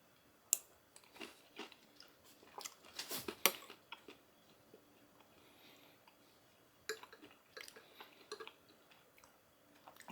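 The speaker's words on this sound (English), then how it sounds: "The cheese in the center of that grilled ham and cheese gives it a nice crunch because it's not going to rehydrate." Crunchy freeze-dried grilled ham and cheese croutons with tomato soup are chewed close up, giving quiet, irregular crisp crunches and clicks in bursts separated by soft pauses.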